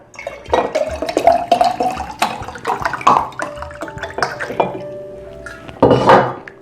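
Water pours into a blender jar holding almonds for almond milk, a close, loud, uneven splashing and gurgling stream with a few hard clinks, running on for several seconds with brief pauses.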